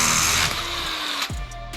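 An electric drill widens a hole in a Honda Civic with a steady whirring buzz that winds down into a lower hum near the end, close and alone.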